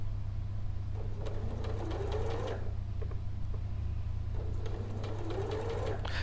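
A sewing machine stitching a curved piece of fabric onto a straight edge, running in two short whirring bursts over a steady low hum, close but fairly quiet.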